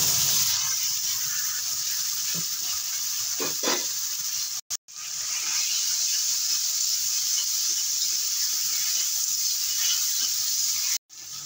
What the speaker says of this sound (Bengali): দিয়ে দেবো বাটা মশলাটা।